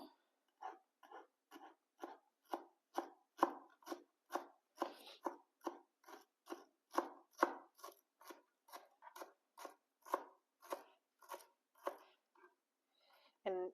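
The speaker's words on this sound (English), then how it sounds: "we're going to chop it all up and put it in there" A knife chops cilantro on a cutting board in a quick, even rhythm of about twenty-five crisp strokes, close and alone with no talk.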